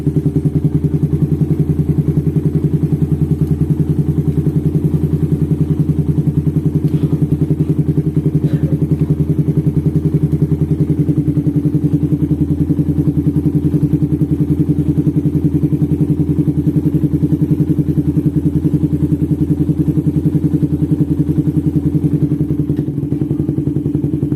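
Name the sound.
Suzuki Satria FU 155cc motorcycle engine running after tune-up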